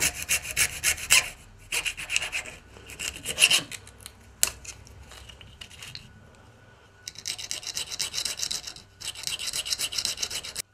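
Cutting the edges off a fishing bite indicator gives close, scratchy rasping strokes in irregular bursts, separated by short pauses and quiet handling noises.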